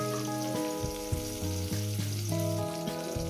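Mustard-poppy spice paste and water hit a hot frying pan for a tilapia and eggplant dish, a close, continuous sizzle over steady tonal background music.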